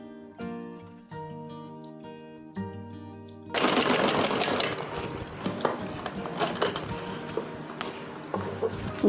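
Sewing machine stitching a lined suit border starts after a few seconds of music tones, then runs steadily and fairly loud with rapid mechanical chatter to the end.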